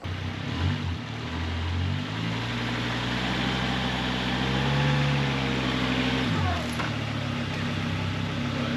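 An old 2006 Volvo XC70 rolls slowly onto ramps, its steady low engine hum and tyre rumble continuous and close, rising slightly mid-way before easing off.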